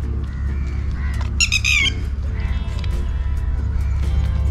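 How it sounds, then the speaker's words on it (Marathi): Near Thiba Palace in Ratnagiri, after rain, birds give one short, harsh burst of squawking in the village. Steady outdoor background noise continues around it. "हे असे गावातच बघायला भेटतात पक्षी."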